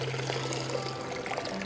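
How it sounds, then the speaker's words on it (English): Soaking water pours out of an upside-down glass sprouting jar through its mesh lid while wheatgrass seeds are prepared, giving a continuous splashing trickle close by with no talk. "I simply drain the water off by inverting the jar"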